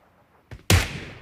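A single sharp gunshot in an online shooter game, loud and close, preceded by a softer thud and followed by a decaying echo.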